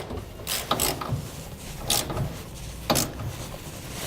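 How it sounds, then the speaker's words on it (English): A ratchet and socket tightening 5/8-inch frame bracket bolts for a B and W fifth wheel hitch on a 2015 GMC Sierra 3500 gives a few short, close mechanical clicking bursts separated by quieter pauses. "we'll now tighten down our frame brackets, starting with the 5/8 diameter bolts using a 15/16 socket on the nut"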